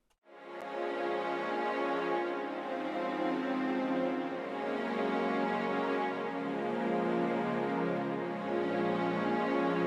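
Omnisphere's Adagio Espressivo patch plays a lush, sustained string section: full, held chords swell in smoothly and ring steadily at even volume with no talk.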